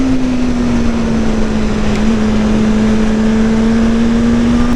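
A BMW M1000R motorcycle engine revving hard toward its 15,000 rpm red line, a loud sustained high-pitched whine that climbs slightly and holds steady, with no talk.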